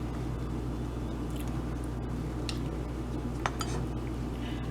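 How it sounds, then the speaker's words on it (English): A utensil stirs liquid pigment in a small container to blend lip gloss colour, giving faint, scattered clinks and soft scraping over a quiet background hiss. "I'm gonna keep stirring until I feel like it's blended pretty good"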